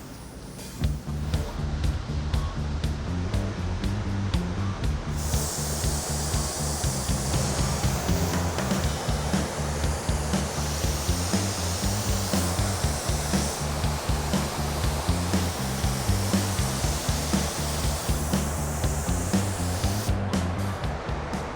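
A spray gun hisses steadily at close range, laying primer sealer over a Ford Crown Vic police car being turned into a Spec Panther race car, with the airy rush continuing unbroken for the whole stretch.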